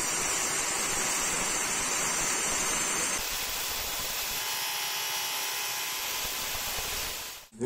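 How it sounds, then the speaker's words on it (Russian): A power grinder runs with a harsh, steady whine and hiss, close by, its pitch shifting partway through before cutting off. "Включаем гриндер."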